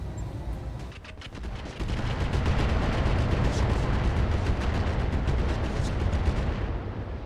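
A volley of MRM missiles launches in the RogueTech mod of BattleTech, a dense rushing roar of overlapping rapid blasts that swells loud and stays steady for several seconds.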